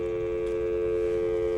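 After the caller hangs up, a telephone line drones with a steady, unbroken tone that holds level throughout, with faint background hiss.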